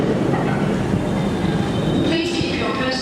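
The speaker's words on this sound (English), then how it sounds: "This marvellous train has, of PCA wagons, has turned up." Freight train of PCA wagons passing through a station, a loud continuous rumble and rattle of wagons going by close, with a brighter metallic wheel tone rising toward the end.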